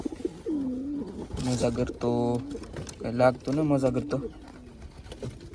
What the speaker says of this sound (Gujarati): કબૂતર બોલે છે પાછું સારું